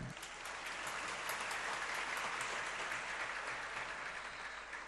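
An audience at a Jain sermon claps together, a sustained, even roar of many hands at moderate distance that continues without a break.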